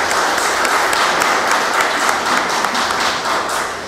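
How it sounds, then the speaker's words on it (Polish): Loud, dense applause from the audience at a transport and logistics forum at a university in Przemyśl, steady throughout and only slightly tapering toward the end. "I również proszę o brawa dla wszystkich patronów."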